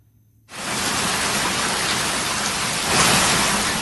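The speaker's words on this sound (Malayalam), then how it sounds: "സംസ്ഥാനത്ത് അതിശക്തമായ മഴ തുടരുകയാണ്" Heavy monsoon rain in Kerala pours steadily after a brief quiet start, a loud, dense, continuous roar of drops on surfaces that swells slightly near the end, with no talking.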